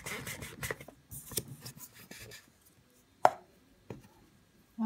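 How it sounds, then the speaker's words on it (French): A drinking glass presses down and cuts through dough for custard beignets, giving a run of close, soft scraping and pressing sounds, then a few isolated clicks and taps with quiet gaps between them. "avec un verre, je vais essayer de découper"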